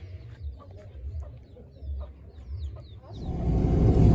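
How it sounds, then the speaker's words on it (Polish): Chickens clucking in a backyard coop at a rural home in Uganda, a soft steady flock murmur with occasional higher calls, joined by louder broadband noise toward the end. "taki kurnik z tyłu"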